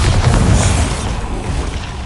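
A deep, loud booming blast from a Bombarda spell in a video game, a heavy low rumble that swells and then slowly fades away.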